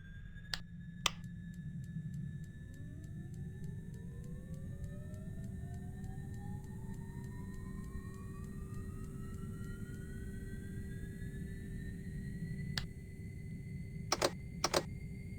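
Beechcraft B1900D turboprop engine spooling up in X-Plane 11, a steady droning whine that rises slowly in pitch over a constant rumble, with a few sharp clicks near the start and end.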